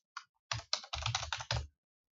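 Keystrokes on a computer keyboard while entering text in Microsoft Word 2013: a short burst of close, crisp key clicks, one isolated tap followed by a quick run of several keys, with no talking.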